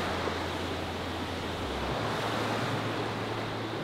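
A steady broadband roar of falling water at Multnomah Falls in Oregon, dense and continuous like rushing spray, with no talking over it.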